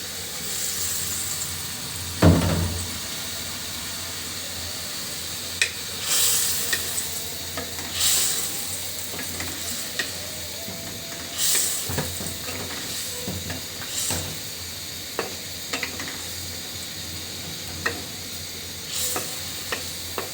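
Hilsa fish pieces go into a well-cooked spiced masala in a pan and sizzle steadily, with stirring scrapes and a few sharp clinks throughout and no talking.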